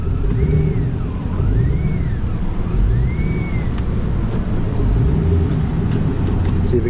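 A Chevy Tahoe's engine runs after a transmission reinstall, a steady low rumble with mild swells, and a faint rising-and-falling whine sweeping over it early on.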